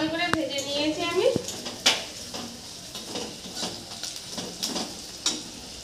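Spice paste of ground garlic, ginger and fried onion stirred and fried in a pan, with soft sizzling, scraping and clinks of a spoon against the pan, and a brief voice at the start.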